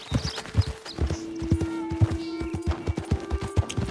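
Horse hooves in Red Dead Redemption 2, a brisk, rhythmic clip-clop of a galloping horse, loud and close, over a steady sustained tone underneath.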